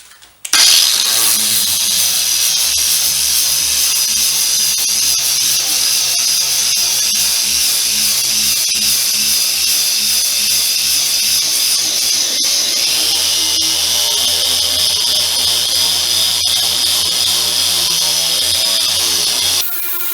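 A standard 4.5 inch angle grinder fitted with a pad works a panel, running as a loud, steady, high-pitched whine with a constant abrasive hiss for about twenty seconds before spinning down.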